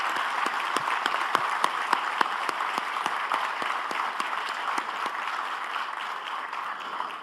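A crowd gives a round of applause for the Federal District Military Police at a public ceremony, with dense steady clapping from many hands and sharp individual claps standing out nearby. It lasts throughout at a fairly loud level.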